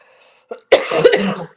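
A person indoors coughs, a short faint throat sound followed by a louder, close, rough cough of about a second, with no speech.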